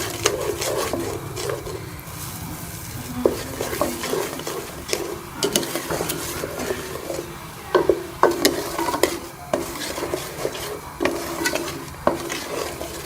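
A spoon stirs sugar melting into mango puree in a pan for mango zarda, with repeated scraping and knocking strokes against the pot over a soft sizzle.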